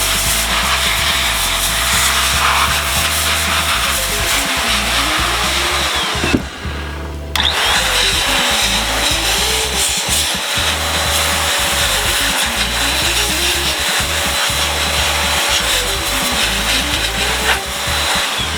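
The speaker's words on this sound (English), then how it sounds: "there's a fair bit of dust on here, so I'm just going to blow it all off" Air blasts dust off a PlayStation 2 circuit board as a loud, close, continuous rushing hiss, broken by one brief pause in the middle before the blowing resumes.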